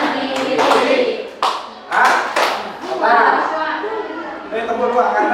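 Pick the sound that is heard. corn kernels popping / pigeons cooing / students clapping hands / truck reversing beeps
students clapping hands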